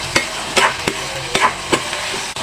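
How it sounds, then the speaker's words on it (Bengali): Potato and chili with sesame seeds stirred in hot oil, a spatula scraping the pan in sharp, evenly spaced strokes over a constant close sizzle, with no voices. "এরপর এখানে তিলের সাথে আলু মরিচ একটু ভালোভাবে নাড়াচাড়া দিয়ে নিয়ে নেব।"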